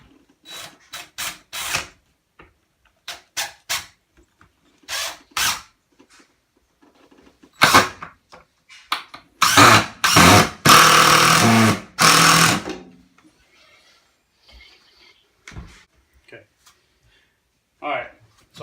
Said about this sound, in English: I've got a screw in each one of the corners at the top.